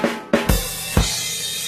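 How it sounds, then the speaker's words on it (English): A short barbecue chicken fill on a drum kit: four sharp drum strikes in quick syncopated succession, the last blending into a ringing cymbal wash, close and fairly loud with no voices. "this is called the barbecue chicken fill"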